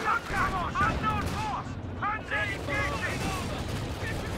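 Gunfire in a WWII real-time strategy match, with bursts of shots as a squad and anti-tank gun come under fire, sitting beneath steady excited commentary from someone talking throughout.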